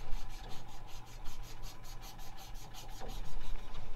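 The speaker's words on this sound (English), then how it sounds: "Can you hear them sanding it? They're all the way through there, through the wall." Sanding on a surface in a nearby room, muffled by a wall during trade work, gives a steady rubbing rasp with rhythmic back-and-forth strokes, moderately loud and continuous with no talk.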